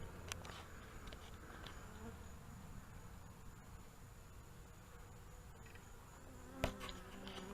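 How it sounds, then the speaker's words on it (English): A massive swarm of bees hums in a low, continuous drone as they invade a top bar hive, faint and steady throughout with a few scattered knocks. "We have got a massive swarm."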